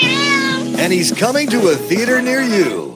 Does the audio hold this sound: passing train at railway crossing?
no